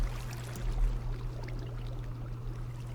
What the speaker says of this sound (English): This is not an ocean. This is like an underground river.